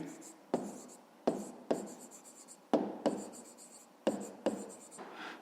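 Pen or chalk writing out a maths solution for a fifth-grade exercise about distance between boats, heard as repeated bursts of scratchy strokes with short pauses between, close and fairly loud with no talk.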